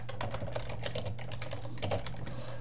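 Rapid clicking keystrokes on a computer keyboard patter continuously over a steady low hum, close and fairly loud.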